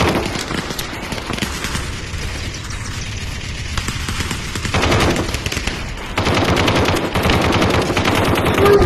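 Gunfire rattles through the VR shooter Aim XR in rapid, dense automatic bursts that stay loud and continuous, with a few brief spoken words beneath.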